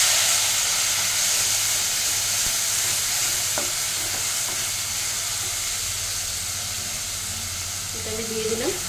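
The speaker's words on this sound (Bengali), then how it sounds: "এটা আবার বেশ কিছুক্ষণ ভালো করে ফ্রাই করতে হবে, যতক্ষণ না মশলা থেকে তেল ছাড়ছে" Onion, ginger, garlic, green chilli and tomato masala frying in a pan for a potato curry, a steady loud sizzle and hiss with faint stirring scrapes near the end.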